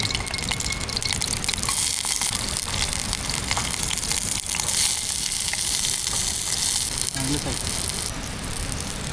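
Chilies sizzle in hot oil, a dense, steady crackling hiss that holds loud and close throughout with a voice talking over it.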